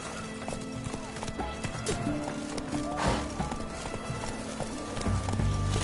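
Roach, Geralt's horse in The Witcher 3: Blood and Wine, gallops in a steady rapid clip-clop of hooves, and a whinny rises briefly partway through, all under busy in-game ambience with shouting voices.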